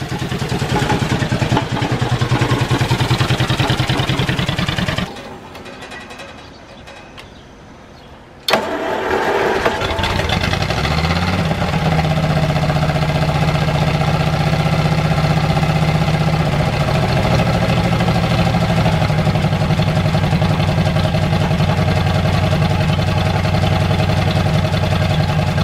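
An old Ford Flathead V8 with a couple of stuck open valves runs loudly and steadily after a brief cranking start, with a short quiet pause before it settles into a continuous rough idle close by.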